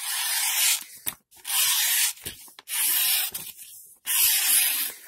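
Four long, loud rasping cuts with a HEA Design Poison knife, sharpened by hand, each lasting close to a second and separated by short pauses, with no talking.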